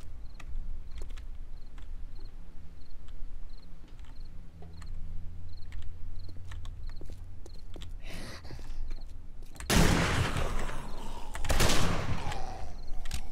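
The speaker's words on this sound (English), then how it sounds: "Let's get the hand cannon out." Hand cannon gunfire in the video game 7 Days to Die, with faint clicks and footsteps leading into two loud, sharp blasts near the end of the stretch.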